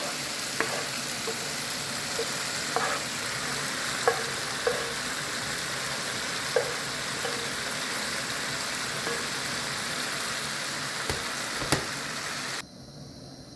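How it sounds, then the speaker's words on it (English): Pre-cooked veggie stir fry sizzles in a pan with seasoned chicken fillet, a dense, even frying hiss punctuated by occasional utensil taps, then the sound drops away abruptly near the end. "So at this stage I'm gonna add here our pre-cooked veggie stir fry. Alright, just add them all."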